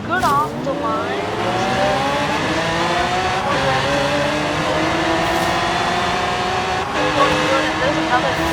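Cars in a Forza Horizon 3 drag race, including a tuned Dodge, roar off the line with rising engine pitch and quick gear shifts, loud and continuous throughout.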